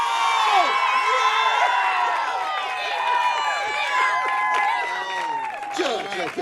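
A stadium crowd at a college football game roars and cheers continuously, a dense wall of many voices with whoops and rising shouts, sustained and loud throughout.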